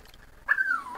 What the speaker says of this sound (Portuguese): o cachorro tá chorando